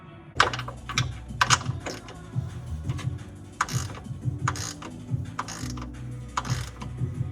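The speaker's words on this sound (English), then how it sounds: "The little chopped in half wrench actually was able to get in there and tighten that motor mount down." A cut-down 17 mm stubby wrench tightens a motor mount on a salvage Nissan 350z. It gives quick, close ratcheting clicks in short irregular bursts with small metallic clanks between them, and no one speaks.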